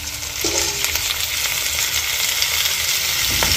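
Pork sautés loudly for pata tim in a pan also holding garlic and onion, a dense, continuous sizzle and crackle heard close up with no talking.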